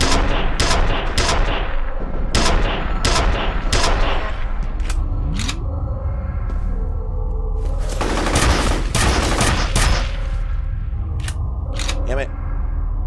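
Gunfire rings out in a video game as shots are aimed at Nedry: rapid, loud bursts of shots in irregular clusters, with a person talking over the shooting.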